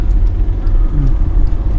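A car's engine rumbles low and close as a learner driver releases the clutch, an uneven, throbbing idle-to-pull-away drone with faint voices in the background.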